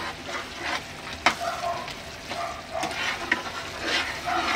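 Spiced oil sizzles steadily while Schezwan chutney with Kashmiri chilli powder is stirred in a pan, with a few sharp scrapes of the spoon against the metal over a continuous close frying hiss.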